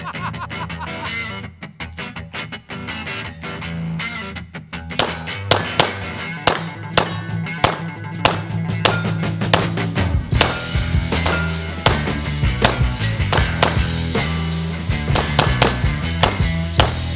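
An FN 509 pistol fired after a sand and clay test, a steady run of sharp, loud shots ringing out one after another outdoors, the reports stacking into a dense rapid rhythm.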